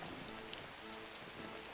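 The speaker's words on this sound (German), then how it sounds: "Ja, beim krassen Regen sind wir dran." Steady rain pattering on surfaces in the real-time strategy game Tzar, a constant, even wash of drops with no voices over it.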